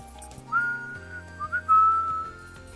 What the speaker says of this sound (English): Sorry, I like whistling.